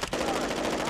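Gunfire in a shooter video game, a short rapid automatic burst, loud and close, lasting under a second.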